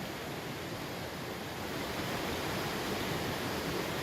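A river flows steadily along a trail below Mount Shasta, a dense, continuous rushing roar with no pauses, close and loud throughout.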